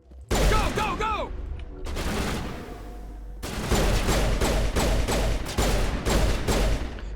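Rapid gunfire fills a Mass Effect firefight, loud dense bursts of shots broken by a brief lull, then resuming in sustained volleys up close.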